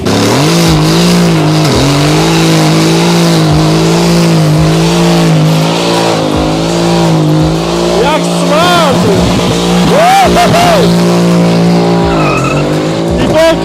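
A 660-horsepower Mercedes-AMG revs hard while doing donuts, its engine note rising and falling in long sweeping waves as the tires squeal and skid, loud and close throughout, with a person talking over it.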